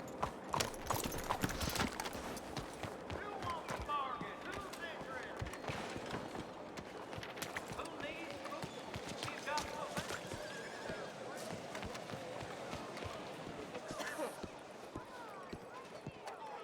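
In Red Dead Redemption, a horse gallops with rapid, continuous hoof clip-clops and lets out neighs, with a voice speaking over the action.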